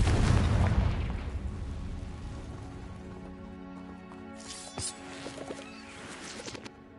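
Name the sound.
Confringo blasting spell explosion, from a wizard video game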